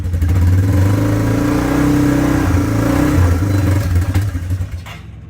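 A Harley motorcycle, unridden since last Easter, starts and runs with a loud, steady, rumbling idle that swells with revs, then sputters and eases off near the end.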